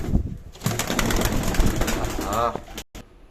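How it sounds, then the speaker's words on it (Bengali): Teddy pigeons coo in soft, close bursts over a mix of background bustle and a speaking voice, ending in a brief cutoff. "কবুতর"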